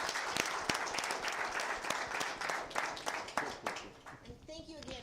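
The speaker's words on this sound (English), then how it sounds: "So a big round of applause for our robotics." Audience at a school board meeting applauds a school robotics team, a brief burst of clapping with distinct nearby claps and voices talking over it as it fades out.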